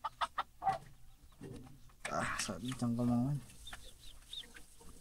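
Chickens clucking close by at a rural building site, with short bursts of clucks and a longer squawking call midway, mixed with people talking nearby.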